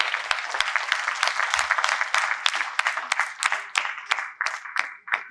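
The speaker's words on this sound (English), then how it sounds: "Please give a loud round of applause." An audience at an innovation award session breaks into applause, dense clapping that is loud at first and then thins into scattered separate claps before fading out.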